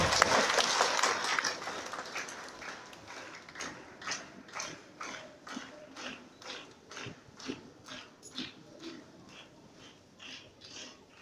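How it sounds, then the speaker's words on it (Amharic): Church congregation applauding loudly at a sermon, a burst of dense clapping that settles into rhythmic, evenly spaced claps fading gradually, heard at a moderate distance. "በታላቅ ጭብጨባ አስቀምጧቸው።"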